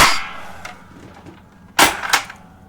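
An old Power Rangers toy launcher fires a projectile: a sharp plastic snap near the start, then quiet handling, then a louder click-and-clatter burst with a short rattle after it.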